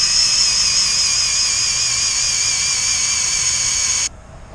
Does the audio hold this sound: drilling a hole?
yes